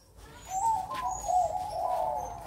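A zebra dove (perkutut), a Bangkok-type bird in an aviary cage, gives a soft trilling coo that rises and falls in a few close, sustained phrases, with no speech.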